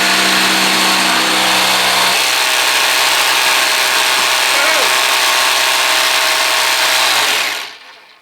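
A jigsaw cuts a 280 mm circle from 19 mm pine, giving a loud, continuous buzzing whine that holds steady for several seconds before cutting off abruptly near the end.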